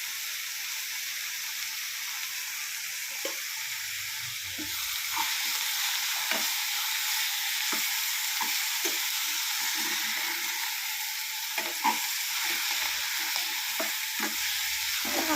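Sambar spinach sautéed in a pan gives a steady, hissing sizzle, with repeated soft knocks and scrapes of a spoon stirring through it, close and continuous.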